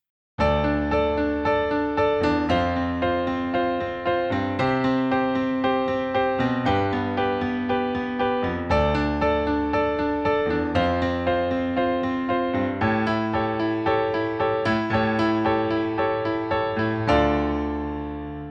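Piano plays a chord progression in a steady rocking pattern, bass and chords alternating in a repeating rhythm. Full and clear, with no voices.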